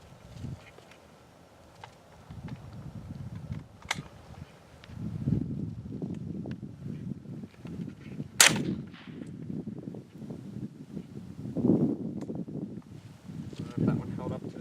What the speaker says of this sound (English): I'm gonna shoot through this with the AR-15 and we'll see how it does